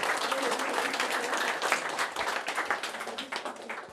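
An audience applauds with dense, sustained clapping that rises and falls slightly over a few seconds, with some voices mixed in.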